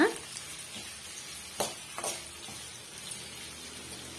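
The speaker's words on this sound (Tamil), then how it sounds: "நல்லா வந்து வதக்கி விட்டுக்கலாங்க" Onions sizzle softly in a hot pan, with a steady frying hiss punctuated by occasional scrapes and clicks from stirring.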